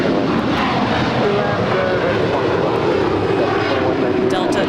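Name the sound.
Delta Airbus A321 jet taking off at LAX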